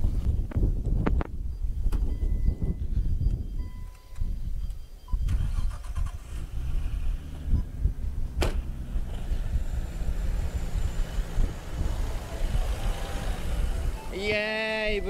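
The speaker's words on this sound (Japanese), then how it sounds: "イエーイ、無事にエンジンかかりました。" A Nissan Skyline R34 starts after an air filter change and airflow sensor cleaning: rough cranking bursts catch and settle into a steady, low idle rumble outdoors with wind noise.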